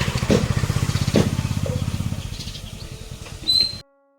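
A motorcycle loaded with several cloth bundles putters past with a loud, rapid, pulsing engine beat that gradually fades, then swells briefly before cutting off abruptly.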